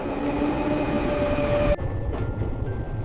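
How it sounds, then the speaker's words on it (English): A train rolls into a station with a loud, steady rumble and a sustained whining tone that drops away as it slows, leaving a softer lingering hum with light clunks. "The train is coming!"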